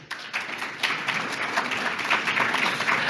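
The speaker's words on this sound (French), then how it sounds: "vous pouvez d'ailleurs vous applaudir" An audience at a public round table on home renovation gives steady, moderately faint applause, a dense wash of clapping that continues evenly throughout.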